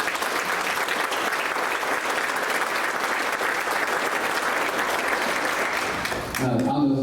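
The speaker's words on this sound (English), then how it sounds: "So let's give them a big round of applause." An audience at the Envision Iowa 2024 event applauds loudly and continuously for about six seconds, a dense wash of clapping hands that fades out before a voice begins to speak.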